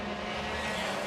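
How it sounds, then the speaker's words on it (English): Patrick Fletcher's race car roaring past a commentary position at the top of the mountain at Cadwell Park, a loud, harsh, steady engine drone close by throughout the short moment with no voices. "horrific noise made by Patrick Fletcher's car as it comes past my commentary position at the top of the mountain"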